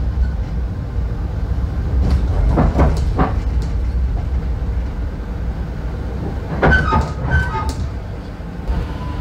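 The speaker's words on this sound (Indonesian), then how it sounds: "Kereta Sembrani tiba di stasiun Ngrombo tepat sesuai jadwal." A Sembrani executive train pulls into Ngrombo station, a broad low rumble running throughout with bursts of squealing, rattling metallic noise from the wheels and couplings as it slows.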